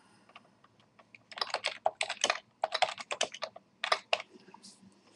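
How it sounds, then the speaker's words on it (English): Quick bursts of keystrokes come from a computer keyboard as someone types a blog post, with irregular rapid clicking in clusters and short gaps, fairly close and clear, with no talk over it. "you type the information"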